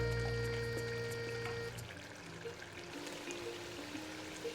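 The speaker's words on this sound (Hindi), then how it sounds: "1 बड़ा चम्मच हमने इसमें घी का ऐड कर दिया है।" Ghee spooned into beef karahi cooking in a pan: a brief close pour that gives way to soft steady sizzling and frying hiss, with no talk.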